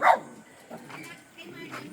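Farm dogs bark in short sharp bursts, a loud one up close followed by a few softer yips and barks spaced apart, with faint background noise.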